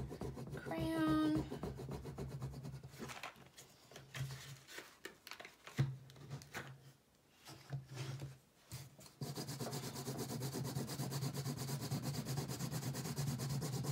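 Crayon rubbing over a paper guitar collage gives a quiet, scratchy scribbling texture with steady strokes, softer in the middle and more continuous toward the end.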